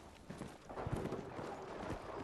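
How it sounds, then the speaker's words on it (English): Teammates' footsteps in the video game Battlefield 6, a loud run of quick thudding steps close by over a rumbling game-audio background, with no clear talk. "they really need to like lower like teammates' footstep audio."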